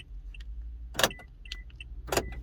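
Quiet idling engine hum, with two sharp clicks about a second apart and faint chirping beeps between them, as a Toyota Corolla locks with its key fob.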